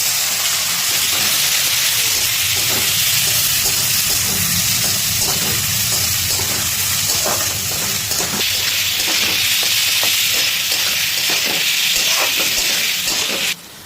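Chopped onion hitting hot spiced oil in a pan for a restaurant-style paneer masala, giving a loud, steady hiss and sizzle that runs throughout with occasional clinks.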